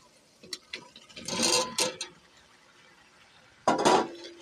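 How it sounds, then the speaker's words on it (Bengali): Young jackfruit and potatoes stirred and fried in mustard oil in a pan, heard as a few scraping, clattering bursts of utensil against cookware separated by quiet pauses, close and moderately loud with no talking. "এখন এই কাঁঠালটাকে আমি নেড়ে চেড়ে কিছুটা সময় ভেজে নেব।"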